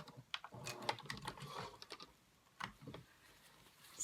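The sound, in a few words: sewing machine back stitching a project bag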